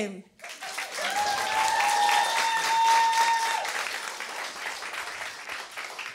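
Audience applause at a stand-up comedy show, a loud, dense wash of clapping that swells and holds for several seconds before easing slightly, with a faint tonal whistle riding over it.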